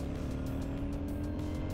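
A car drives along a winding rural road past a group of motorbike riders, its engine and tyre roar steady, close and continuous.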